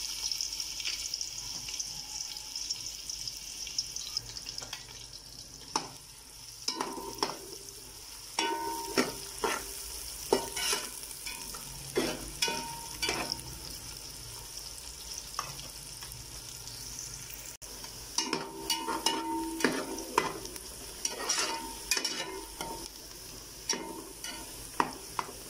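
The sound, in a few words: onions frying in hot oil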